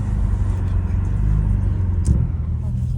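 A BMW F30 328i with a stage 2+ tune cruises through snow at night, a steady low engine and road rumble heard from inside the cabin, with one brief bump partway through.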